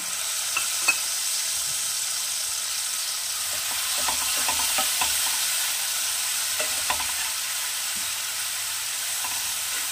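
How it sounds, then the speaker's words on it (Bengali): A Bengali pabda fish curry in mustard gravy is stirred in a pan, with soft sizzling underneath and a scatter of light scraping and clinking strokes from the spoon across the ten seconds. "একটু নাড়িয়ে নেব"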